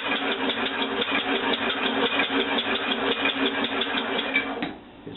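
Homemade compressed-air engine running near and loud with a fast, even chugging pulse, then the rhythm drops away abruptly near the end.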